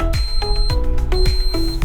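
A solar hybrid inverter sounds an alarm after showing error 15: loud, clear electronic beeps repeating about every half second, several pulses in a row with no voices.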